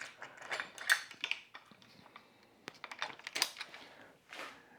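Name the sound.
putting a nut back on a bike stand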